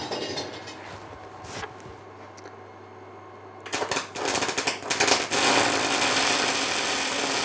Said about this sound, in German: jetzt gehen wir hin und schweißen den komplett aus.